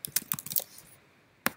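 Someone types a short name on a computer keyboard in a burst of quick, close clicking keystrokes, then pauses and strikes one final key.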